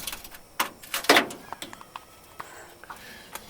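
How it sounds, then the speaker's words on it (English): Door of a 1948 Ford F1 pickup truck cab opening up close: a few sharp metallic latch clicks and a brief creaking scrape, with no talking. "This is the door that opens."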